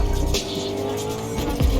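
A car drives in the Fortnite video game, its engine revving steadily and loud with a brief tire squeal, heard alone without talk.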